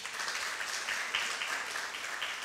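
A church congregation claps for the worship team, a fairly faint, steady spread of applause heard from some distance in the hall.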